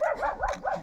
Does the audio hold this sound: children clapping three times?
no